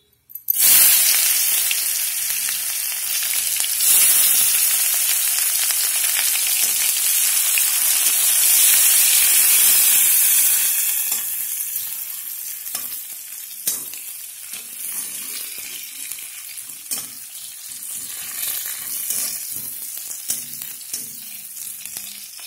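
Onion and whole cumin hit hot oil with a loud, bright sizzle that fades after about ten seconds into quieter crackling and occasional stirring.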